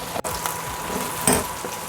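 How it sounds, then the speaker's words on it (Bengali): Carrot, potato and cauliflower fry together in oil in a home kitchen, giving a close, steady sizzle with a brief stirring scrape and a small clink partway through. "আবারও সব আমি একসঙ্গে তেলে আবারও আমি পুরোটা ভেজে নেব"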